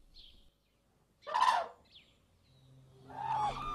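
A wounded black-necked crane, picked up by a herder in a village on the Tibetan plateau, gives two separate loud, harsh calls about two seconds apart. Softer bird chirps come in between.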